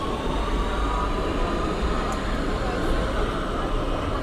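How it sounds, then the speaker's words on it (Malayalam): A continuous heavy rumble of a tram rolling past in Oslo, Norway, loud and steady throughout, with faint higher squeals. "ട്രാം പോകുന്നുണ്ട്"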